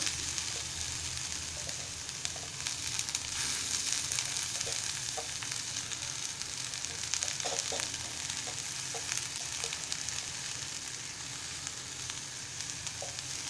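Takla leaves are sautéed with fried onion in oil in a pan, giving a constant close sizzle with occasional light stirring clicks, with no voices.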